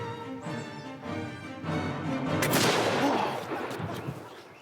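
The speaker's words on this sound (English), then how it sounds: "The flintlock musket that Mr. Carrington is loading was fired at the Battle of Waterloo" Flintlock musket of Battle of Waterloo vintage fired outdoors, a single sharp crack that swells into a broad roaring blast and fades over a couple of seconds, preceded by a low murmur of background voices.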